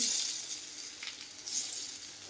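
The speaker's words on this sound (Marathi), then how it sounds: "नुसतं डीप फ्राय करून घ्यायचं थोड्याशा तेलामध्ये" Aloo vadi, colocasia rolls, fry in a little oil over low heat, giving a faint, continuous hiss and crackle with gentle swells of sizzle.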